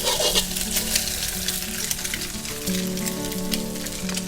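Steady crackling sizzle of an egg frying in an oiled pan, continuous and close, with a low hum underneath.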